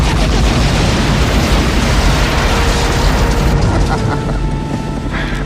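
Missiles fired at a target in an action film, a loud roaring blast with rumbling booms that fills the whole stretch and eases slightly toward the end.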